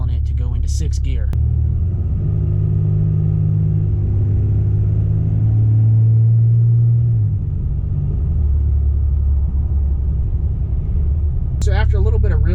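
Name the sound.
Cummins diesel truck driving on the road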